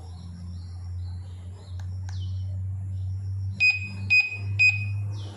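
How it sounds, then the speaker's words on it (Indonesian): A Satfinder combo meter searching for a digital TV signal gives three short, high electronic beeps at an even rhythm, close and clear over a steady low hum. "bunyi alarm atau beep sound, menunjukkan bahwa antena ini"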